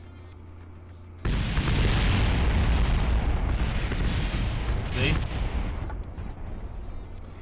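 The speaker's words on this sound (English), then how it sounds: "It in fact did cause a nasty explosion." In Kerbal Space Program, decoupling a craft sets off a sudden loud explosion that booms and rumbles for several seconds before slowly fading, following a quieter stretch with a brief spoken word.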